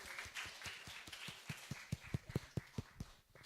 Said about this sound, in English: Let's give a warm round of applause for all our presenters in this session